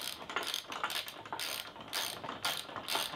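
A socket wrench ratchet clicking in quick bursts of close metallic ticks during Series 1 Land Rover spring and hub work, repeated several times with short pauses, no voices.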